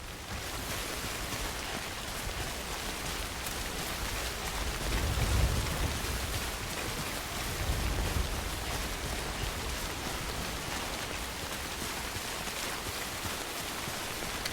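Heavy rain pours steadily over a mountain landscape in the video game Death Stranding, a dense, continuous hiss with faint low rumbles, and no voices.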